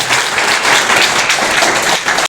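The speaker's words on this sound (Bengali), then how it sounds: "সবার জন্য একটা বিরাট বড় হাততালি হবে।" A big round of applause at a government ITI college event in Bankura, dense and loud clapping from a crowd filling the whole moment before cutting off abruptly.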